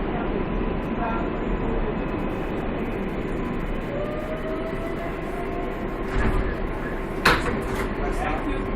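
A New York City R188 7 train rides toward Manhattan, a steady loud rumble of wheels and motors heard from inside the car. A faint tone and brief clanks sit above it, with an automated announcement voice over the noise.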